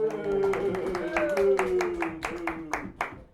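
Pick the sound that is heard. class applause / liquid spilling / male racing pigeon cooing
class applause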